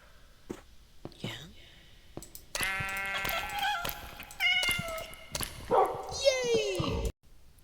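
Cats in the video game Minecraft meow several times in close, loud bursts of rising and falling cries, with soft breathy noise and short pauses between calls.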